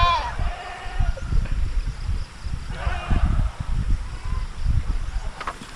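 Goat tethered with a companion on a Filipino farm, bleating in a few short cries near the start and around the middle, heard over low wind rumble and handling noise.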